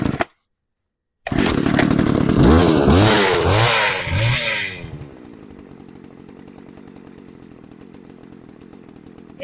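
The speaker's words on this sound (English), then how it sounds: "Let's give it a go. Take it off choke." An old chainsaw that had not been used in years starts after being taken off choke, revs loudly in several rising surges, then drops to a steady buzzing idle.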